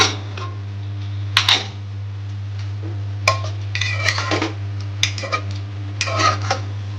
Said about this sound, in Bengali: এবার আমি লিডটা খুলছি।